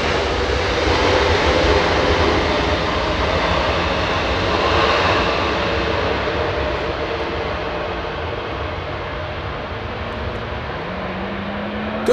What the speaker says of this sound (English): Good sound from the 777